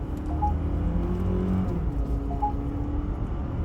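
A Tank 500 2024 hybrid SUV with a 2.0-litre turbocharged engine gathers speed on a test drive, giving a steady low engine drone with a few faint tonal chirps and no talking.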